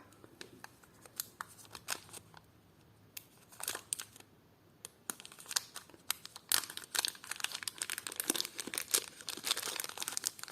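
Crisp plastic crinkling and rustling in irregular bursts as a small packet of vintage clip-on earrings is opened, close up, growing busier and louder toward the end.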